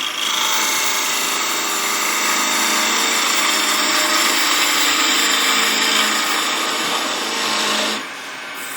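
A skew chisel cuts wood spinning on a lathe, giving a loud, continuous rushing hiss that holds steady for about eight seconds before cutting off, leaving the motor's quieter hum.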